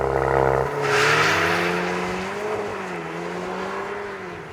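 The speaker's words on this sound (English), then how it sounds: "Oh, lots of wheel spin, but that kick and those aggressive shifts are just insane." A VW T-Roc R on winter tires making a launch-control start from standstill to 100 km/h on a wet road, its engine roaring up with wheel spin through rising revs and quick gear shifts, loud and close with no talk.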